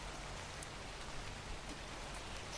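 Steady, even rain falls in ARK: Survival Evolved as a constant soft hiss, faint and continuous with no talk over it.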